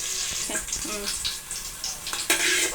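Capsicum frying lightly in a pan, with a sizzling hiss broken by utensil scrapes and clinks, close by, ending in a louder burst of sizzle; a faint voice may be present.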